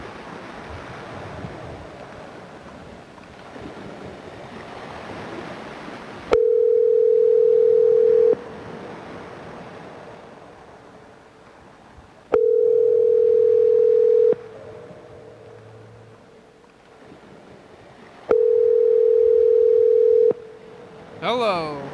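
Telephone dial tone heard while calling a grandmother, sounding as three steady two-second tones with gaps between them, loud and clear over a quieter background hiss.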